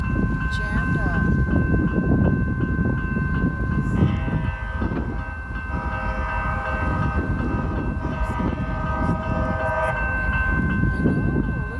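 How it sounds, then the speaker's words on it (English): A Houston METRO light rail train approaches along tracks where traffic is jammed, its rumble and a sustained horn-like tone building at close range, with people's voices mixed in over the noise. "There's a train coming, and all these cars are just jammed up."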